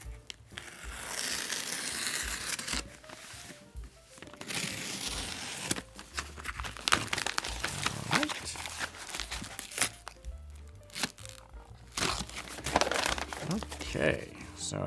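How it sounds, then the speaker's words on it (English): Bespoke chukka boots being unboxed, with loud crinkling and crumpling of packaging paper in bursts and rustles, mixed with handling noises while a person talks. "So let's unbox these babies."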